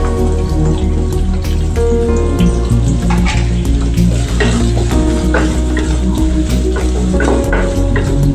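Ingredients being sautéed and stirred in a pan for paneer butter masala, with a steady close sizzle and frying crackle under repeated scraping and stirring clinks, continuous and fairly loud throughout.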